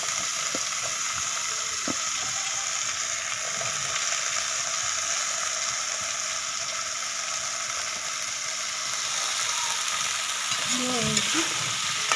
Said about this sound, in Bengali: ভেজে নিচ্ছি